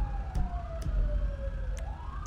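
Police sirens wail in a video game, a steady rising and falling tone under a low rumble, with a few faint clicks, no talking.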